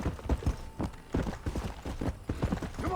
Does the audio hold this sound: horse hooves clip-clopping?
yes